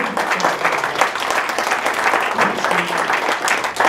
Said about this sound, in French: Applaudissements pour l'ouverture du festival.